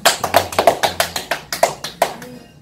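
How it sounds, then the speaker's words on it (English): A small group claps hands in a quick, even rhythm during a home language lesson, about a dozen sharp, close claps that stop abruptly. "Clap for yourself."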